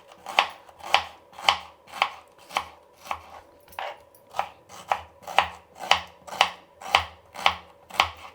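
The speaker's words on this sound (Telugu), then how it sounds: "ఇప్పుడు నేను పొడుగ్గా కట్ చేస్తున్నాను." Knife chopping red onions lengthwise on a cutting board for biryani, about fifteen crisp, evenly spaced close taps in a steady rhythm with faint slicing between strokes.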